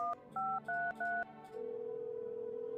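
Four short two-tone keypad beeps in a video game, each followed by a brief gap, then a steady single-tone ringback or dial tone that holds to the end. The tones sound clean and moderately loud, with no voices.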